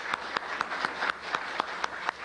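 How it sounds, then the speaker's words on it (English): An audience at an Albanian national cause event gives a round of applause, sparse and fairly quiet, with individual claps standing out in a loose, uneven rhythm over a low room hum. "Shirley, let's have a round of applause for Shirley"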